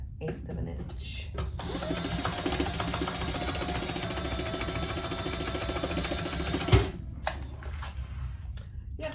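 A sewing machine bastes fabric pieces onto a retro-style sling at an eighth-inch seam, running in one steady, fast stitching burst of about five seconds between quieter handling noises, with a voice speaking nearby.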